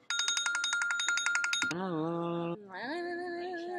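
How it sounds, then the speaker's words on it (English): A phone ringtone plays alone and up close: a fast run of bright repeated beeps, then two longer sliding electronic tones with a short gap between them. "This ringtone is for Matt."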